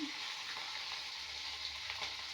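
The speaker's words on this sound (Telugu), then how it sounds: "ఇంకా పోపు పెట్టుకున్న, ఆయిల్ వేసి ఆవాలు వేసుకొని కరివేపాకు వేసుకున్నా." Mustard seeds and curry leaves crackle and sizzle in hot oil for a short tempering, a close, steady frying hiss with no talk.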